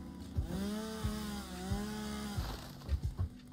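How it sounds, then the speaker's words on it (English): A chainsaw in the video game Satisfactory revs and buzzes while clearing debris, its engine whine rising and falling in several bursts, followed by short choppy cutting noises near the end. "Grab the chainsaw, just clear a bit of this rubbish out if we can."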